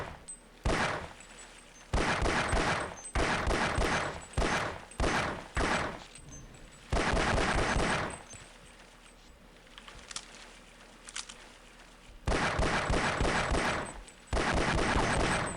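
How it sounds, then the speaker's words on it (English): Rapid pistol shots ring out in Half-Life Opposing Force in several loud bursts with pauses between, the shots coming fast as the trigger is held. "alt fire fires a bit faster if you hold it down"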